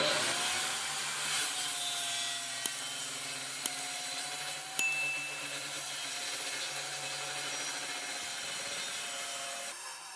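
Long cut through a wooden board during a home renovation, a steady rasping drone of cutting that runs continuously with a few sharp ticks, moderately loud and close, without speech.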